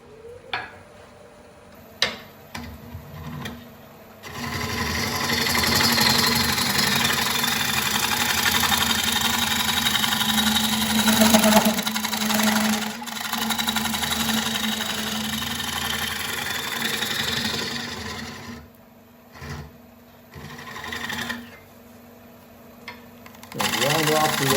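A Robert Sorby 1.5 inch scraper cuts spalted sugar maple on a lathe, a steady loud scraping whir with the motor's hum, stopping and restarting toward the end, with someone talking at times.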